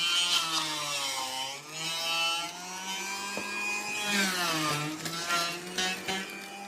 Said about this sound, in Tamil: பாருங்க ஆன் பண்றீங்க பாருங்க, முழு பாவக்காடும் அப்படியே போட்டீங்கன்னா உங்களுக்கு ஜூஸ் தனியா வந்துடும், சக்கை தனியா வந்துடும்